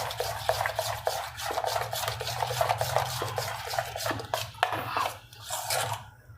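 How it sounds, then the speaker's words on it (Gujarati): A spoon briskly beats semolina pizza batter in a bowl, giving quick repeated scraping and knocking strokes in an uneven rhythm, close and moderately quiet, ending with a brief pause. "થોડુંક આમ ફેટી લેવાનું"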